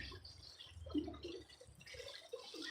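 Water flows and trickles faintly outdoors, a soft bubbling with small drips and splashes lasting a few seconds, quiet and alone with no voices.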